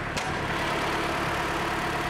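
The 1.8 litre Toyota four-cylinder in a 2016 Scion iM runs steadily at idle, a constant close engine hum with one brief click near the start.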